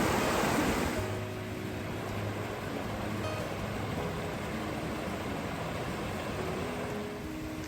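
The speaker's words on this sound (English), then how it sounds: "look, it's the waterfall. Waterfalls." Steady, loud rush of falling water from a waterfall in Oak Canyon on a hiking trail, a continuous broadband roar that holds level throughout with no talk.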